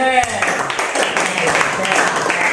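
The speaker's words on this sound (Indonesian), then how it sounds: "kasih aplaus untuk kelompok B" Applause in a classroom during a static electricity lesson, scattered clapping from students that fills the moment after a voice speaks briefly.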